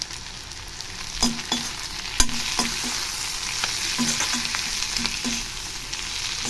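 Onion sambal is stirred in a frying pan, a continuous sizzle broken by a series of soft spoon knocks and scrapes against the pan, close and moderately loud, with no voices.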